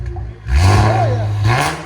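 An Infiniti Q60 3.0L twin turbo V6 with an aftermarket exhaust revs up close by, a deep rising engine roar with a whistling turbo spool sweeping upward, then settling.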